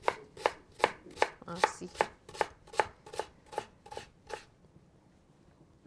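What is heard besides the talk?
chopping onion with a knife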